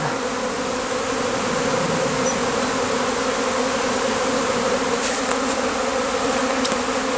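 A honeybee swarm being gathered from branches into a small hive box hums in a steady, dense drone that stays loud and even throughout, with a few faint extra buzzes of single bees passing close near the end.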